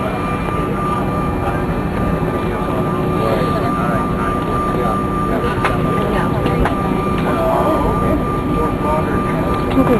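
A Spirit Airlines airplane lands at Fort Lauderdale (FLL) airport, producing a loud, unbroken engine roar that fills the whole stretch, with voices faintly present underneath.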